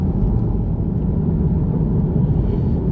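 A Porsche 987 Boxster drives the Tail of the Dragon road, its engine a steady, dense low rumble with road and wind noise filling the cabin, close and continuous without change.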